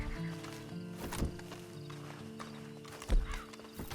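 Hooves clip-clop steadily from a horse in the Red Dead Online video game, with a brief neigh and a louder thump of movement near the end, over a constant low game ambience.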